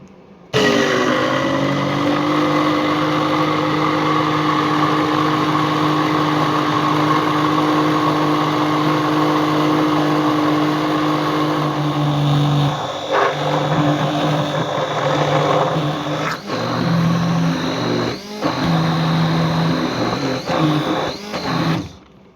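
Kitchen blender whirring steadily while emulsifying mayonnaise from egg and vinegar, a loud continuous motor drone for about twelve seconds, then cut into short on-off pulses near the end.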